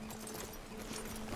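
Horse hooves clip-clopping steadily during a ride in Red Dead Redemption 2, a continuous, even rhythm of hoofbeats heard fairly clearly under a constant ambient wash.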